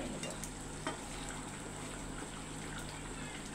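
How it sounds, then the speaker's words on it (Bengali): Quail meat coated in ground cinnamon-cardamom paste sizzles steadily in a pan while being stirred, a continuous frying hiss with faint scraping, close and even throughout. "এটা দিয়ে আমি অল্প একটু নেড়ে চেড়ে আর একটু চুলার উপরে রেখে নামিয়ে নেব।"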